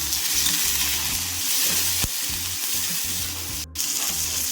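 Chopped tomatoes sizzling in a hot pan, a loud close fry with stirring scrapes and a brief break near the end.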